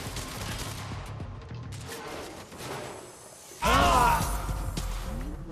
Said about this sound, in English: I'm gonna put whatever bullets I can into him from here.